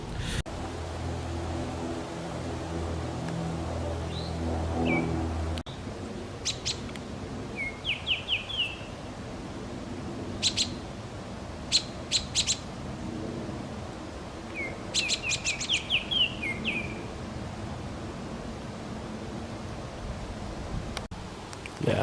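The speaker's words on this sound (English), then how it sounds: "I do not know what kind of bird that is." Short, high bird calls and chirps ring out repeatedly in pine woods, spaced at intervals over a steady background hiss, with a low rustle early on and no voices.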